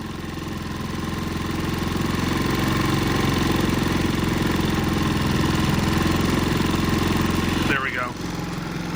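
A Predator 3500 generator engine runs at eco throttle while its surging fault is being fixed. The mechanical drone is loud and steady, close by, and dips briefly near the end.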